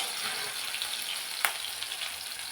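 Cumin, green chili and garlic paste sizzling in hot oil for a Marathi spinach vadi, a steady broadband hiss with one sharp crackle partway through, close and continuous with no talking.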